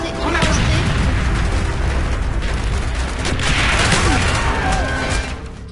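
Mortar blasts and gunfire from the Call of Duty Black Ops video game, loud and continuous booms and bursts blending with a game voice.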